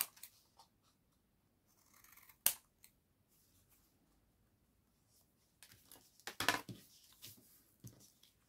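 Scissors cutting paper at a craft desk, quiet, sparse snips and rustles with a few sharper cuts and small clicks, no talking.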